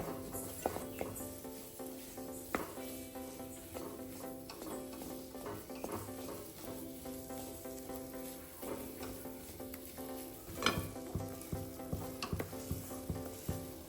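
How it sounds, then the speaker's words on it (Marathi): Maida flour is stirred continuously as it roasts in a pan for barfi. A spoon scrapes and swishes in irregular strokes against a soft, constant sizzle, with occasional louder scrapes. "सारखंच हलवत राहायचं त्याला अजिबात बंद ठेवायचं नाही कारण ते खाली चिटकलं तर मग कलर बिघडतो त्याचा"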